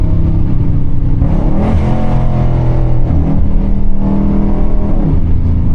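A tuned, catless Dodge 392 Scat Pack accelerates hard through its gears, its loud, close exhaust rising in pitch with each gear before dropping briefly at the shifts, one after another.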